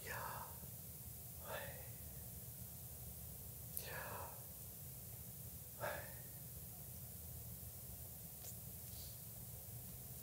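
Heavy, slow breathing close to a microphone in a church setting, about four long airy breaths spaced a couple of seconds apart, each swelling and fading like a Darth Vader imitation over a low steady room hum.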